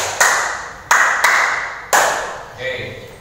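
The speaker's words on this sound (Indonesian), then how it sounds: "Tepuk 5 nanti kiri 2, kanan 2, dan atas 1" Sharp hand claps in a small indoor space, a few crisp isolated smacks spaced apart with short pauses, the last one softer, demonstrating a counted clapping pattern.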